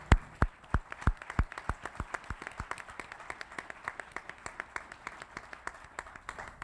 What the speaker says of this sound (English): So I'd like you to help me join by giving them a round of applause.